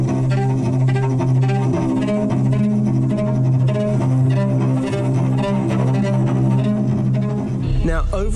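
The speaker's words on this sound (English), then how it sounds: "And it became the basis for Kara's theme, and it sounds something like this." Music forming the basis of Kara's theme from the game Detroit: Become Human plays as a sustained, layered instrumental piece with steady low tones and shimmering upper textures, and a brief vocal-like sound appears at the end.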